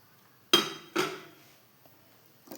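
Chopped banana dropped into ghee in a hot pan, two sharp clattering impacts in quick succession with ringing tails, then quiet with a faint knock and another clink.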